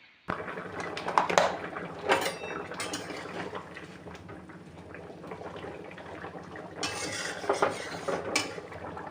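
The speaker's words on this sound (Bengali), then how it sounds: "একটু গরম মশলা দিয়ে নাড়িয়ে চাড়িয়ে নামিয়ে নেবো" A spoon stirs egg curry in a pot, producing scattered metallic scrapes and clinks against the vessel, louder at the start and again near the end, with a low background hum.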